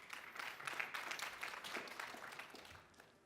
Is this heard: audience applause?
yes